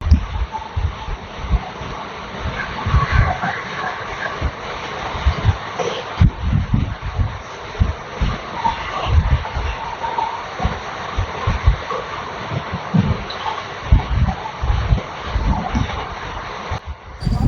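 Passenger train on the Giridih–Madhupur line in Jharkhand crossing a bridge at speed, a steady low rumble with rhythmic wheel thumps and rattling running continuously throughout, close and fairly loud, with no talking.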